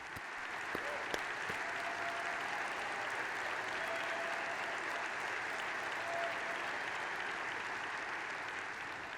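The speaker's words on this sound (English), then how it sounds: "Now that deserves enormous applause." A large audience at a political speech gives sustained, dense applause that holds steady and loud for about nine seconds, with faint crowd voices mixed in.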